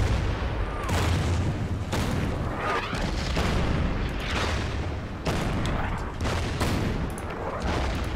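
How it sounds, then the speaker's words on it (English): Artillery in the war game Order of Battle: Sandstorm pounds out a rapid series of heavy booms and blasts, roughly a dozen loud impacts in irregular succession layered over rumbling, with a voice briefly audible. "let's fire with the artillery first"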